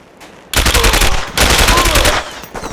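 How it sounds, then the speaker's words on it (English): Machine gun fire in the video game SAS: Secure Tomorrow: after a brief quiet lead-in, two loud, sustained automatic bursts ring out close up, separated by a short dip. "Open fire!"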